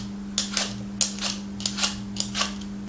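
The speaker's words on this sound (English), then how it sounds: "Peel the apples." Green and red apples are peeled with quick, rhythmic scraping strokes, six or so crisp bursts in steady succession, close and clear over a constant low electrical hum.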